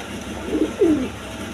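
Golla Giribaz pigeons give two short, low, throaty coos in quick succession, close by over a quiet background hum.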